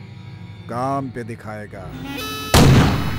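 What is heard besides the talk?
gunshot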